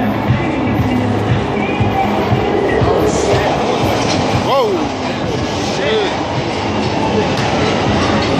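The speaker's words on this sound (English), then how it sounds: "There's the train coming." A Chicago subway train roars steadily through a station, with faint wheel squeals rising briefly over the rumble and voices murmuring underneath.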